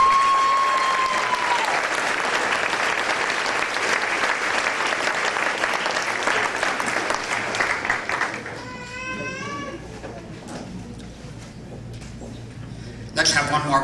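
Sustained audience applause at a graduation ceremony, a dense loud wash of clapping that fades after several seconds, followed by people talking and a quick burst of clapping at the end.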